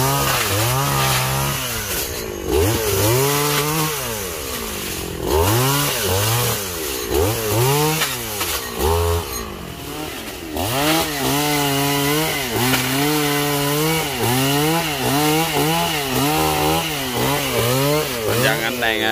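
A chainsaw cuts through giant trees to get at the palm heart, the engine whining up and down in repeated loud revving cycles, close by, with brief drops between cuts and the sound of wood being sawn.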